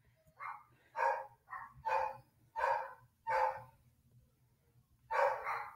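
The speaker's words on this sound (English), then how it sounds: "My dogs are so annoying" Several dogs bark indoors in short repeated bursts, about seven sharp barks with brief pauses between them, fairly close and loud.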